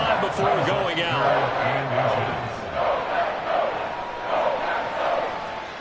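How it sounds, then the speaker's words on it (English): Football stadium crowd roaring to force a false start on third and inches, a loud sustained swelling roar that rises and falls in waves, with a voice or two in the mix. "this crowd trying to force a false start here"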